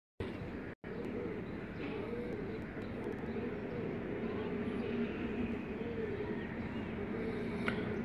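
Racing pigeons take off from a rooftop in Dinga, Gujrat district, during a 2018 cup race. Faint coos and bird sounds run over a steady outdoor hum, with light voices in the background.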